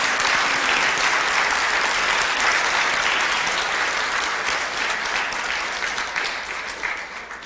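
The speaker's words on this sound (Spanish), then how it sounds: "Dale un aplauso al Señor por eso." Church congregation applauding the Lord, a loud sustained roar of many hands clapping that stays dense and even, easing off slightly toward the end.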